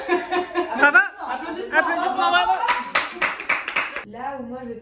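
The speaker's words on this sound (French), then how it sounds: "Applaudissements" A few people clap around a small table with an audience, brief bursts of hand claps mixed with laughter and chatter, close and lively, with voices dominating much of the time.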